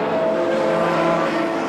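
Front-wheel-drive Vauxhall and rear-wheel-drive BMW touring cars race at Silverstone in the 1990 British Touring Car Championship, a loud, continuous engine roar holding steady under full throttle.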